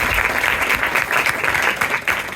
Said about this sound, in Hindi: जिसने कहा फरिश्तों के लिए तालियां बजाएं उनके लिए तालियां।